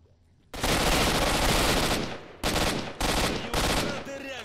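Shotgun gunfire in the video game S.T.A.L.K.E.R.: Shadow of Chernobyl, loud close blasts: a long roaring burst of shots followed by three shorter bursts, each ending in a decaying tail.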